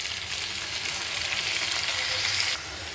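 Onions and tomatoes sizzle in hot oil in a pan for a curry, giving a steady close crackling hiss that drops slightly in level near the end.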